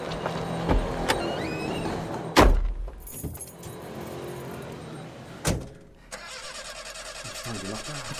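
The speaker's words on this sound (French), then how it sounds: "La voiture de Monsieur Bâtard, vite" Car doors slam shut with sharp thuds and keys jangle, then a car engine cranks and starts, settling into a steady mid-pitched idle that continues to the end.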